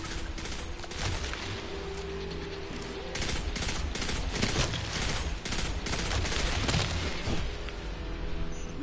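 Dense, continuous gunfire and bursts of automatic weapons fire from the video game Destiny 2, with booming impacts layered through a loud, sustained firefight that never pauses.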